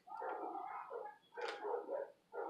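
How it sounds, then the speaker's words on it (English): Dogs next door barking in a few excited bursts, a quick cluster of yips, then a louder bark and a fresh one at the end, heard at moderate distance with no talking. "Their dogs next to her like always go crazy."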